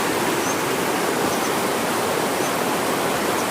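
Broadband rushing water of a river at a mountain stream crossing on a hike toward Syvulia, steady and loud throughout with no pauses or voices.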